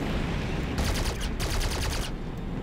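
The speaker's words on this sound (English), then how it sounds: "I'm taking heavy fire." Rapid bursts of gunfire in an animated war battle, loud and sustained, with crackling volleys that pause briefly between bursts.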